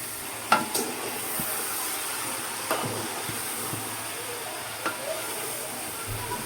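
Malabar spinach seeds and greens sizzle steadily in a hot pan, with a few sharp clinks and stirring knocks scattered through the continuous frying hiss.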